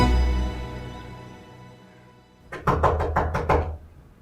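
Hard knocks land on a door in a quick run of about five raps after a quiet stretch, close and sharp against a low room hum.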